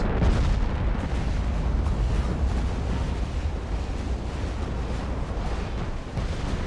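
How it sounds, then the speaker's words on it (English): A warship's main guns fire a salvo in Ultimate Admiral Dreadnoughts during a fight with armored cruisers, a loud, dense, continuous roar of overlapping booms and rumbling that holds steady throughout. "Main guns are about to fire in 3, 2, 1, and deletion."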